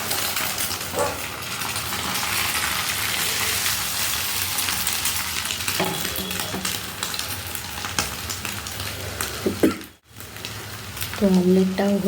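Beaten egg omelette sizzling in a little oil in a pan, a steady bright hiss throughout with a few clinks of utensils and a brief break near the end.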